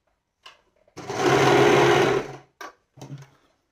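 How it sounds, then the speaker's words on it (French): Sewing machine stitching a neckband onto a t-shirt, one steady loud run of about a second and a half, with short bursts of stitching before and after. "tu tires un petit peu et tu te mets à coudre."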